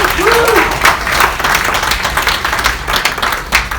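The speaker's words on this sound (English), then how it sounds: "Give her an applause again." Loud audience applause and clapping at a live corporate mentalist show, a dense crowd clapping close and continuous, with a brief voice or cheer near the start.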